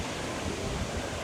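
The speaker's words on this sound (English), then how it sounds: "Woo, it's windy." Strong wind gusting at the harbour in St. Thomas, a brief, dense rush of broadband noise buffeting the microphone.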